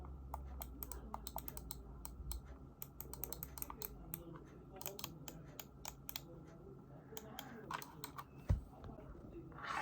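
Keys clack on a clicky Keji RGB gaming keyboard, close, quick bursts of sharp taps in an irregular rhythm, with a voice talking quietly at times.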